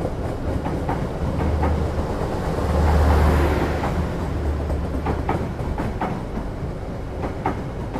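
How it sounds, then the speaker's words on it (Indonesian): The Tawang Jaya passenger train runs past close by with a loud, steady rumble and rhythmic clickety-clack of wheels over rail joints that swells midway and then holds. "Yang baru saja melintas itu adalah kereta Tawang Jaya teman-teman"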